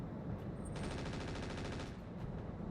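A command van in the mech video game RogueTech fires its ballistic weapons, a loud rapid burst of machine-gun shots with a sharp metallic rattle dominating the middle of the clip.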